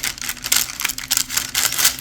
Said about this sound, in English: That noise you're hearing out in the back room there is my cat playing with his spin toy.